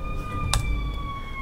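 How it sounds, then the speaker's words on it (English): Sirens in the Fallout 4 video game sound as steady high wailing tones, loud and continuous, with a short bright burst of noise partway through. "there's some sirens going on. It's like the loudest sirens in the world, honestly."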